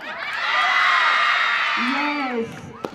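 A crowd of children at a school annual sports meet lets out a loud, sustained shout and cheer that swells and fades over a few seconds, with a single voice calling out near the end.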